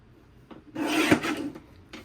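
A paper trimmer cuts 12 by 12 scrapbook paper in one brief, close scraping slide, with a couple of light taps before and after.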